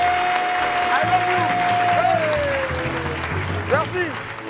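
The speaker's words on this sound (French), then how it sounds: "Et on applaudit pour Loulou" Audience applause at a live show, fairly loud clapping from a crowd, with people talking over it and a steady tone sounding underneath for part of it.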